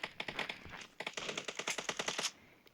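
Rapid bursts of automatic gunfire from the mobile battle-royale game PUBG Mobile, loud and close, firing in quick repeated volleys with brief pauses between strings of shots.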